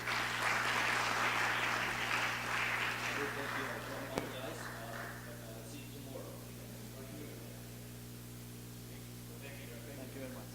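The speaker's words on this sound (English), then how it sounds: "we please welcome both of our guests with a round of applause." Audience applause welcoming two visiting scholars to a talk, clapping that is strongest in the first few seconds and then fades to a thin patter over a constant electrical hum, with a single sharp knock midway.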